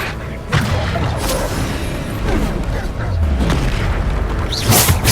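A Bombarda spell explodes in combat in the Hogwarts Legacy video game on PC. Loud booms and thuds are layered over a steady din of battle, and a bright burst rises near the end.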